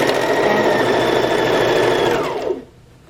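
Sewing machine running a back stitch, a loud, close, continuous motor whir and needle chatter that winds down and stops near the end.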